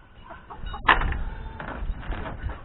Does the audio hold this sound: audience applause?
no